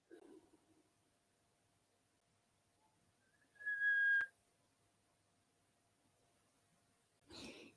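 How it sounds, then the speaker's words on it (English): A single thin whistle, a pure sustained tone lasting under a second, rises out of near silence, with soft breaths heard before and after. "Just the whistling"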